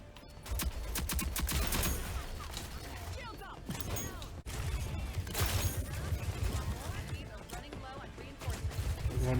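Rapid gunfire bursts in the shooter game Rogue Company, dense crackling shots and clattering reloads repeating through most of the stretch, loud and close, with a voice talking over the action.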